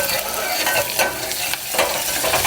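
Homemade green curry paste, about a teaspoon, sizzles and spits in hot cooking oil over medium heat in a sauté pan while being stirred, a steady close crackle with brief louder bursts and no talking.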